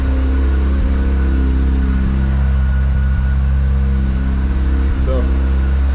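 A Mazda RX-7 rotary engine idles steadily, a loud, continuous low drone with a constant hum and no clear revving, running alone throughout.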